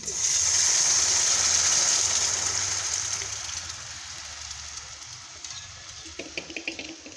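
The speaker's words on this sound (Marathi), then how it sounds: "गरम पाणी टाकून घेऊ." A loud hissing rush as hot water hits a hot pan of fried spice tempering for elephant foot yam, gradually fading into a softer bubbling sizzle with a few light clinks near the end.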